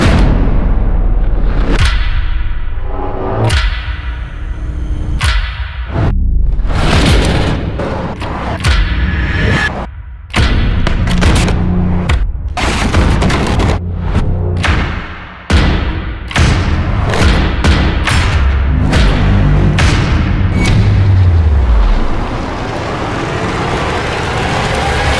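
Cinematic sound effects track packed with deep booms, heavy thuds and sweeping whooshes hitting in quick succession, loud and dense throughout, ending on a falling swoosh and a fading tail, with no speech.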